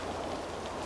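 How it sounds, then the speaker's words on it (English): Rain in Assassin's Creed Valhalla falls as a dense, even hiss of droplets on surfaces, steady and close for under a second with no voices. "even the rain effects are stunning"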